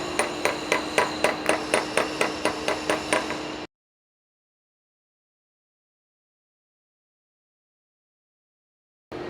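A hammer taps a new gearbox seal down into its flange, the old seal serving as a pusher, giving about twelve quick ringing metallic blows in an even rhythm, close and clear, followed by silence and a final strike at the end.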